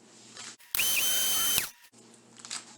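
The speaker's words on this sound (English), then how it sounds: "you just keep it in the grinder a little bit longer" An electric grinder whirs loudly for under a second while grinding dried chives, its high buzzing burst starting and cutting off sharply between quieter moments.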